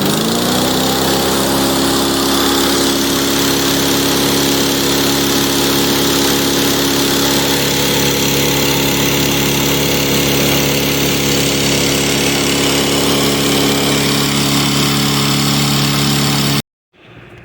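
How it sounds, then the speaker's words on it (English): Cub Cadet self-propelled lawn mower, left sitting outdoors for years, cold-started and running: a loud steady close-range engine drone with a buzzy rattle, holding its speed before cutting off abruptly at the end. "So it's a cold start this morning."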